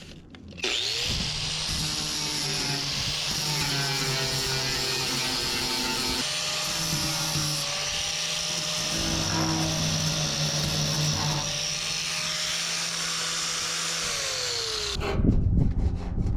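An angle grinder works the corroded steel wall of a used shipping container, a loud sustained whine with shifting pitch as the disc bites the metal. It runs alone for about fourteen seconds, then stops with a clunk.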